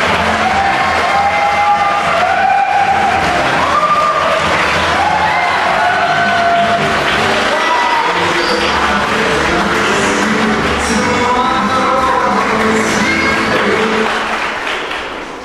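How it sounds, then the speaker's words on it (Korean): Loud, sustained applause from wedding guests as the groom enters a Korean wedding hall in Seosan. The dense clapping runs steadily for the whole stretch and thins slightly at the very end. "다시 한번 힘찬 박수를 부탁드립니다"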